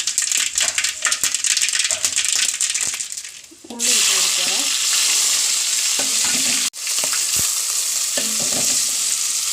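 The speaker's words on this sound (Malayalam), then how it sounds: "അപ്പം നമ്മൾ കടുക് ഇട്ട് കൊടുക്കുവാണ് വറ്റൽമുളക് ഇട്ട് കൊടുക്കാം" Mustard seeds and dried red chillies sizzling in hot oil for a Kerala tapioca dish, a loud, dense crackle that dips briefly midway before surging back, with spoon rattles and stirring noises over the steady hiss.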